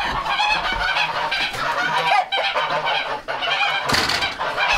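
Geese on a farm honk loudly and continuously from close range, a dense overlapping chorus of nasal calls with occasional louder bursts, no talk.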